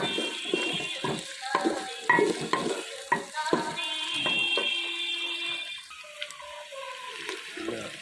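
Onions dropped into leftover hot ghee in a pan, with sizzling and scattered clinks and stirring scrapes through the stretch, no voices.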